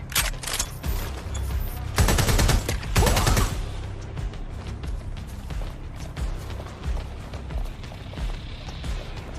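Dense video-game gunfire in Watch Dogs: Legion: loud rapid bursts and automatic fire, heaviest in the first few seconds, then easing into scattered shots under a steady background of game noise.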